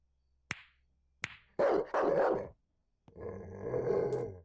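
A dog close by gives two sharp short clicks or yips, then a pair of rough growly barks, followed by a longer low growl that rises toward the end.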